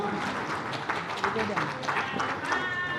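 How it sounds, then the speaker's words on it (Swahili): Applause from a seated audience at a World Press Freedom Day gathering, a dense, steady patter of many hands clapping throughout, with some voices and crowd noise mixed in. "Makofi mengi sana."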